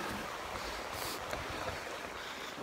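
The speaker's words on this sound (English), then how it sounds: "There's a river." River water flowing steadily past a bridge at Narracan Creek while running high, a continuous broadband rush with some gusty wind noise, close and even throughout, no voices.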